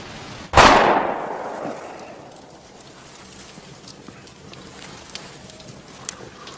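A single sharp gunshot cracks loudly once and rings off briefly into a quiet war-film scene, followed by faint scattered ticks.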